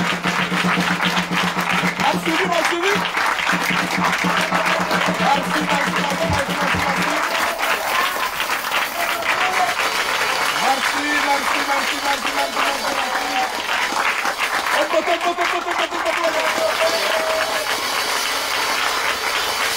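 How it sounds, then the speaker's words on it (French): Loud audience applause at a children's memory contest, dense and steady throughout, with music tones and voices mixed in underneath. "Alors, nous mettons les applaudissements."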